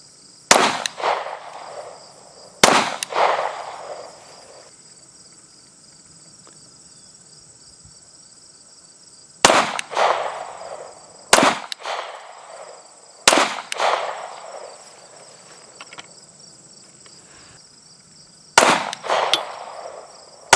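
Gunshots strike a bulletproof shield, about seven sharp, ringing cracks spaced several seconds apart, each with a short echoing tail, over a steady chirp of crickets outdoors.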